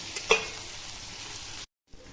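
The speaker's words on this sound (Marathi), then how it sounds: "हे बघा दुसऱ्या साईडने पण चांगलं असं तळून घ्यायचं" Halwa fish pieces fry in oil in a pan with a steady, soft sizzling hiss, one small pop early on, before the sound drops out abruptly for a moment.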